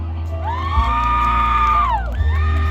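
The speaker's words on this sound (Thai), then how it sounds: "กองเชียร์ล้นหลามนะคะ" A crowd at a night beauty pageant for the Loy Krathong festival, with a sustained whooping cheer that rises, holds for a second or so, dips and swells again over a loud, steady crowd din.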